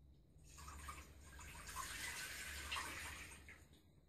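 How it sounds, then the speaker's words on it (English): Water runs and splashes into a cooking pot, filled for spaghetti; a soft, continuous gushing stream, fairly quiet, with no talking. "Firstly, put the water into a pot."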